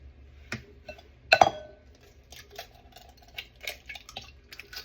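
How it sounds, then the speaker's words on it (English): Three eggs cracked against the rim of a bowl in a home kitchen: a sharp crack near the start, then smaller clicks and shell taps follow, close and fairly loud over a quiet room. "we're going to crack them into this bowl here"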